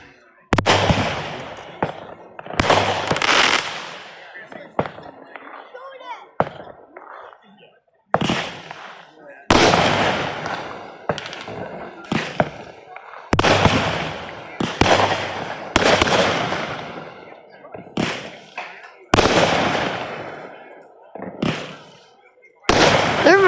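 Fireworks bursting at a 2025 Donahue fireworks show, a series of loud broadband booms and crackles separated by short gaps, with voices of spectators talking between the blasts.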